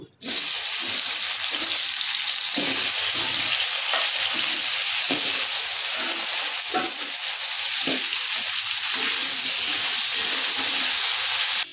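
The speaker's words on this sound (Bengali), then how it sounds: "সেই কড়াতে আর একটু তেল দিয়ে দিব। আলুগুলো ভেজে নেব।" Potato pieces fry in oil in a kadai with a loud, constant close-up sizzle, broken by soft scrapes and taps as they are stirred; no voices.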